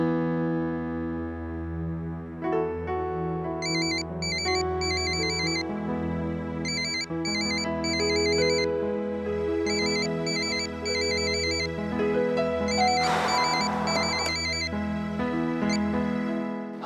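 A phone rings during a call placed to dad, a repeating electronic ringtone melody with bright beeping phrases over a sustained tonal backing, steady and clear with no talk.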